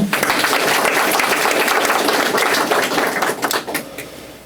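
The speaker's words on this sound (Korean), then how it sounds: "박수 한번 치시죠." A church congregation applauds at a thanksgiving service for a land purchase, with dense, loud, close clapping that holds steady and then thins into scattered claps as it fades.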